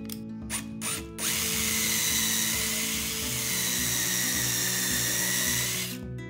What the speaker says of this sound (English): I directly screw the corbel from the bottom